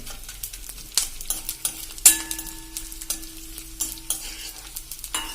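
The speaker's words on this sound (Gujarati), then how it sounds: "અંદર કાચો ન રહે એ રીતે આપણે સાંતળવાનું છે ગુંદને" Edible gum (gund) sautéing in a pan, with a steady close sizzle and regular clinks of a spoon stirring against the metal.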